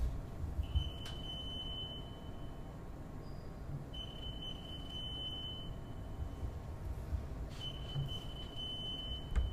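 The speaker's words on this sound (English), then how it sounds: "Is it a fume hood alarm?" A fume hood alarm in a lecture room gives three faint, thin electronic beeps, each lasting about a second and spaced roughly three seconds apart, over a steady low room rumble with no talk.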